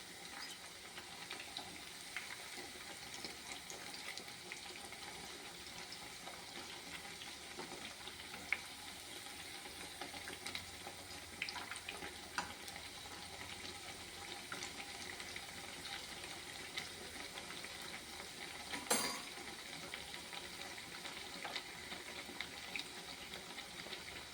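Rava vada deep-frying in hot oil gives a steady, faint, continuous sizzle and bubbling with a few small pops and clinks, heard alone with no talking.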